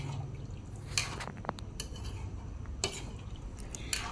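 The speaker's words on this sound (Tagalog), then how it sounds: "Haluin nyo lang." Pork with carrots and potatoes stirred in a pan, giving soft liquid sizzling under scattered sharp clinks and scrapes of a utensil against the pan, several distinct taps spaced irregularly, close and fairly quiet.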